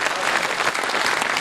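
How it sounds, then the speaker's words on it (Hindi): A crowd claps at a Hindi kavi sammelan poetry recital in Rudrapur, a loud, dense burst of steady applause that fills the short moment with no voices over it. "कमजोर तालियों से अगवानी मत करो,"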